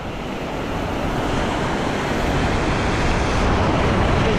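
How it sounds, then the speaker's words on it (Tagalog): Big sea waves crashing on a Philippine shore: a loud, continuous roar of surf that builds slightly over a few seconds, with no talk. "Nagpapalo na naman ang mga malalaking alon"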